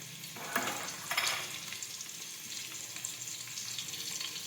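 Chili hits hot oil in a pan with a sharp burst of sizzling that settles into a steady, close frying hiss.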